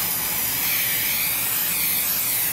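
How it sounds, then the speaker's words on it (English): Aerosol leak-seal spray hissing steadily onto the welds of an aluminum boat, a loud, close, continuous spray held in even strokes that cuts off abruptly at the end. "I'm just going to spray in nice, even strokes along the welds first."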